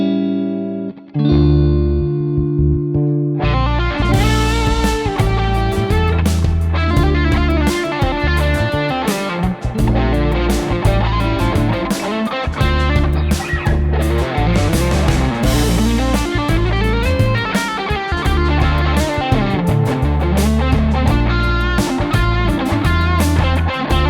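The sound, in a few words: electric guitar through tube amp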